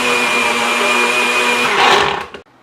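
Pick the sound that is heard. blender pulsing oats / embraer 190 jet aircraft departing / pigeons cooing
blender pulsing oats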